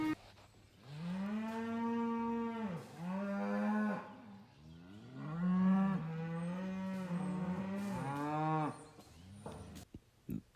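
Cows and calves separated from each other at a winter pasture working alley call out in long, loud, drawn-out moos, several overlapping and rising and falling in waves, with no talk.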